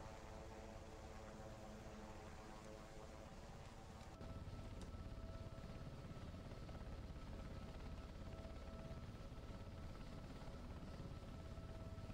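A Sea King helicopter's engine and rotors produce a constant, heavy whine and roar from inside the cabin, with a faint rhythmic thrum of the blades that shifts in tone partway through.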